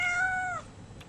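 A house cat lets out a single clear, drawn-out meow up close, ending abruptly with no other voices around it.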